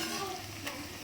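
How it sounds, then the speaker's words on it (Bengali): Onions fry in oil in a wok for biryani, a steady close sizzle with light stirring scrapes, no voices over it. "প্রথমেই পেঁয়াজ ভাজা"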